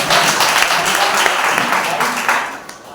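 Congregation at a Sunday church service clapping for a newcomer named Mahesh Yadav, dense steady applause that stays loud for most of the moment before easing off near the end, with voices mixed in.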